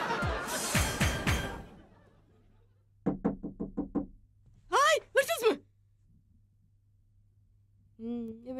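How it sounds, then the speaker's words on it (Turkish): A burst of knocking on a door comes in a quick series of about six raps in a sitcom scene, with voices talking before and after. "Soymak için girebilir miyim diye kapıyı tıklatıyor"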